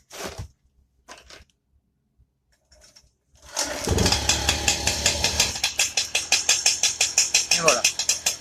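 A moped engine is started after a few quiet handling clicks, catching with a sputter and then settling into a loud, close, steadily pulsing two-stroke idle.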